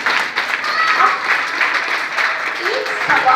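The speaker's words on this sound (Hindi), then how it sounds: "ताली बजाइए।" An audience at a Mother's Day celebration at Pareek Public School in Jaipur claps for the mothers. The applause is close, loud and continuous, with a bright rattling texture, and faint voices mix in beneath it.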